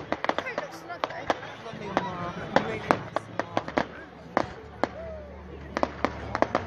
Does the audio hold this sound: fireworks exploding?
yes